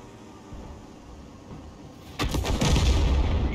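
A tank gun fires in a World of Tanks-style video game, one sharp loud blast about two seconds in, then a rumbling tail, after a quiet low engine hum.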